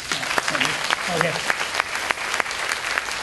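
An audience applauds at a Hong Kong awards ceremony, dense clapping with sharp individual claps standing out, while someone speaks over it.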